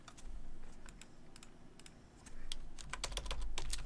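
Someone types on a computer keyboard, quick irregular clusters of close, light key clicks with short pauses between bursts, over a faint low background hum.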